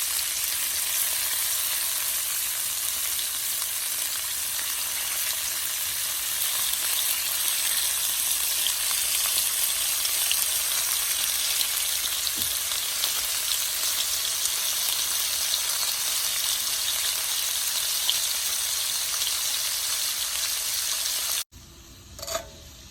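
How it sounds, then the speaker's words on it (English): Green, yellow and red peppers with onions fry in a pan, a dense continuous sizzle that holds evenly for over twenty seconds before cutting off abruptly into near quiet, with no talking. "our peppers and onions for the kale have cooked rather nicely"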